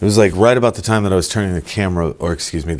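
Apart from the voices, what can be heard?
No everyday noises stand out.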